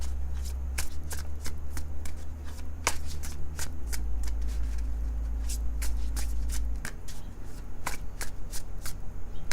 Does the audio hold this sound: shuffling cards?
yes